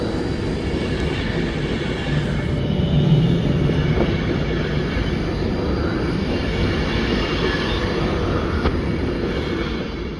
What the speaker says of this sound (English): our West Midlands Railway service from Birmingham New Street to Wolverhampton is on its way as well